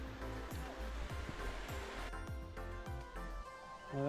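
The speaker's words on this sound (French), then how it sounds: "cascade est là-bas." A steady roar of rushing water from a waterfall in the forests of northern Thailand fills the whole clip, broad and constant, with soft knocks on top and no talking.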